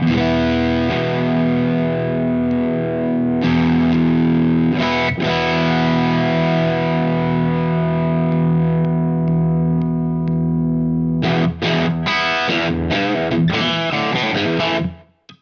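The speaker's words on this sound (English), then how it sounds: "Into the MSL mode, the metal screamer mode." A JHS Bonsai overdrive pedal in its MSL metal screamer mode drives an electric guitar through loud, saturated distorted riffs, with sustained chords, brief pauses and choppy palm-muted bursts near the end, played alone without talk.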